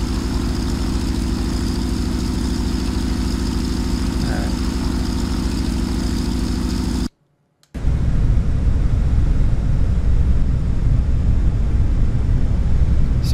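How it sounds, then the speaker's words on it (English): B-26 bomber droning steadily in a flight simulator, a constant multi-engine propeller hum that cuts out briefly midway, then returns rougher and louder with heavy low rumble. "We're flying in our awesome B-26."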